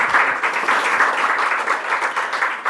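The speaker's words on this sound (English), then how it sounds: "Round of applause." A round of applause from a conference audience after a panel discussion on teacher professional development, many hands clapping steadily and fairly close, without pause and with no speech on top.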